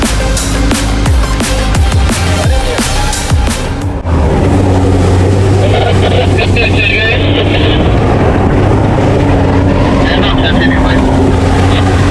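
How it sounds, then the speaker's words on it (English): A loud, steady vehicle engine hum with rushing water and buffeting wind on a narrow canyon road in Iran, continuous throughout, shifting in texture partway through. "There's water, wind, and engine hum."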